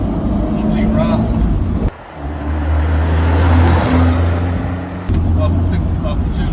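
1976 Alfa Romeo Spider S2 with a 2-litre twin-cam, twin-carb engine on the move: a loud, steady engine drone and rasp with shifting tones, mixed with wind buffeting and road rush from inside the car.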